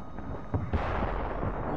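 Cannon firing an iron ball in the Wild West game Call of Juarez: Bound in Blood, two quick booming reports followed by a broad rumbling blast that rolls on to the end.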